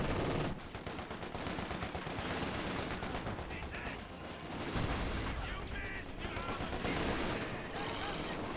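Rapid gunfire and machine-gun bursts in the real-time strategy game Company of Heroes 2, loud and continuous throughout with overlapping volleys and a few louder booms, with a commentator talking over the battle.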